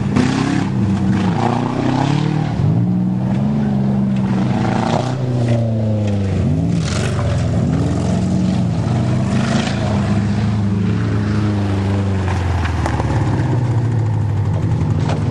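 Demolition derby cars, a Buick against a Saturn, with loud engines roaring and revving continuously, their pitch rising and falling as they drive and ram, and a dense, steady mechanical din throughout.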